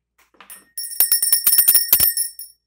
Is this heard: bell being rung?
yes